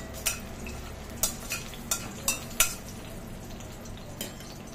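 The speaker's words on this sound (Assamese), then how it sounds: "দি গোটেইখিনি ভালদৰে লৰাই দিছো" Whole spices (cumin, cloves, cardamom, cinnamon, a bay leaf and a dried chilli) fry softly in oil in a pan, a low steady sizzle broken by several sharp clacks of a utensil stirring against the pan.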